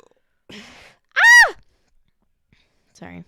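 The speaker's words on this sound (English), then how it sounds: "That burp will definitely do it." A single loud, rising-then-falling belch-like vocal sound, bracketed by two shorter, softer throaty noises in an otherwise quiet moment.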